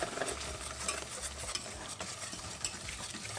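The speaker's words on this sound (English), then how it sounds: "when the butter is completely melted, we put the flour and stir" Flour being stirred into melted butter in a pan for a lasagna sauce, a continuous close sizzling hiss with soft scraping stirs and faint low rumble underneath.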